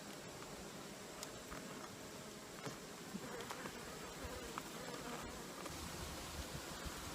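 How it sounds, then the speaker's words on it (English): Honeybees swarm around an opened hive full of bees during an inspection, a steady, faint, continuous buzz with occasional closer passes of single insects. "this hive is chock full of bees."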